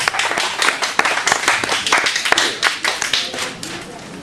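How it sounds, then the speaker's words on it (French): Audience at a crime-novel book fair in Penmarch applauds, a close, brisk patter of individual hand claps with distinct sharp hits, lasting a few seconds. "Et bien on peut aussi l'applaudir et le remercier."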